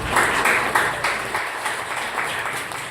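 A church audience claps steadily in a dense, even patter for a few seconds, with no talking.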